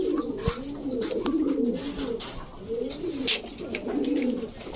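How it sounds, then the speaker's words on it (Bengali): A large-sized Sapchila pigeon pair, male and female, coos repeatedly nearby, a series of swelling, rolling phrases with brief pauses between them and a few sharp clicks. "এই হচ্ছে সাপচিলা নর, এই হচ্ছে তার মাদি, বিশাল সাইজের কবুতর।"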